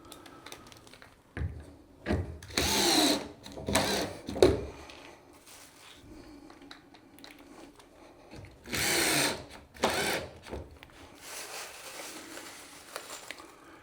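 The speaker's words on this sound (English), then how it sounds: "my screwdriver is just running out of juice" A battery-powered screwdriver whirs in short, uneven bursts during a subwoofer installation, its motor straining and faltering as the battery runs low, with quiet handling clatter between the runs.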